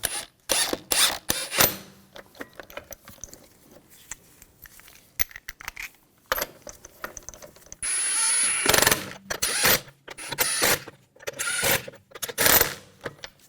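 Metallic clicks, rattles and short ratcheting bursts as lug bolts are threaded by hand onto a wheel of a 2000-2006 BMW X5, irregular and close, with a louder whirring stretch midway and no talking.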